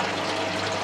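Water from a hose rinsing down a Hayter Hayterette lawn mower, a steady close rushing spray with constant loudness and no talk.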